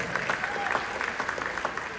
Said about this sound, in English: Let's give Mr. John English a round of applause for allowing us on this stage tonight.